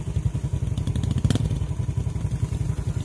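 Motorcycle revving hard on a trail, a close, rough pulsing engine roar with rattling clatter throughout.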